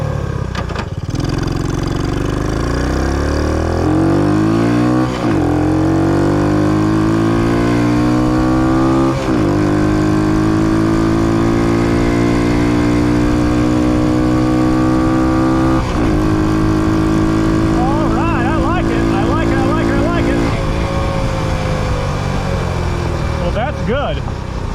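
A Honda Trail 90 motorcycle fitted with a larger sprocket rides on the highway, its engine loud and close with a droning hum that climbs in pitch through repeated gear-change dips.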